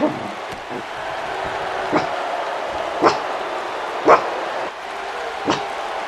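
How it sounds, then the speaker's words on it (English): An agitated dog barks in about five separate loud yelps spread over several seconds, close to the microphone, over the steady background of a televised World Championship Wrestling broadcast from the Cincinnati Gardens. "We apologize for the sound effects. Our dog Molly really worked up"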